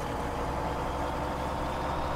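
A Kenworth logging truck engine idles with a steady low diesel rumble in Farming Simulator 17, loud and constant without pauses or voices.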